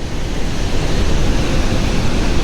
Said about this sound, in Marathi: श्री गणेश भगवान हे महाभारत लिहित होते आणि त्यांना महाभारत लिहित असताना ह्या आवाजामुळे अडचण येत होती म्हणून महर्षी आणि सरस्वती नदीला शाप दिला